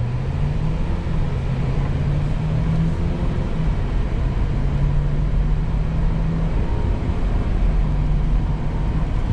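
A Haval H9 seven-seat SUV accelerates from 0 to 100 in sport mode, its engine a steady droning rumble with a faint rising tone under constant road and cabin noise, heard from inside.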